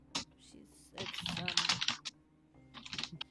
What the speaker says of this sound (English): That is very loud typing.